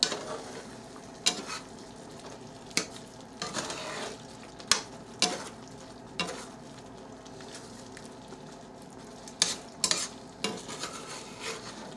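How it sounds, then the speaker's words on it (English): Heavy whipping cream is stirred into mushrooms in a pan, with a spoon scraping and clinking against the pan in irregular strokes over a low, soft sizzle. "whipping cream, heavy whipping cream. Get that mixed in."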